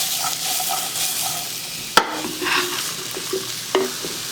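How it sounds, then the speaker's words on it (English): A spatula stirs and flips carrot, celery and onion frying over medium-high heat for a cottage pie base, giving a steady close sizzle with scraping strokes and a couple of sharper knocks against the pan. "give it a little stir around or a flip"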